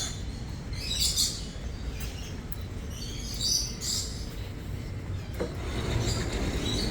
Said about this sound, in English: Wow, those birds are noisy.